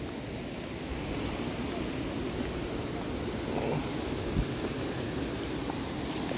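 Water pours steadily over the Saut de l'Oignin waterfall into the river below, a continuous broadband rush with no breaks, loud and close, with wind buffeting the microphone.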